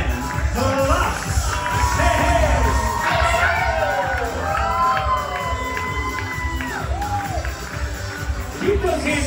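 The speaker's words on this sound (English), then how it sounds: "Keep those hands clapping for Brittany Platt and Brandon Woods." Wedding guests cheer, whoop and clap as the wedding party enters at a wedding reception, with a dense, steady crowd roar, shouts and an announcer's voice running over it throughout.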